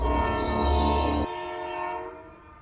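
A departing passenger train at a railway station sounds a loud, sustained horn for about a second over heavy rumbling, then the horn cuts off while the rolling train noise continues and slowly fades.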